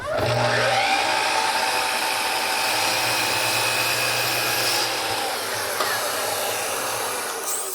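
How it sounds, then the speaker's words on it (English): A miter saw with a double laser line cutting wood in a workshop, a loud steady motor whine running nearly continuously for several seconds, up close and alone without talk. "miter saw, and one of the cool features about this is there's a double laser line"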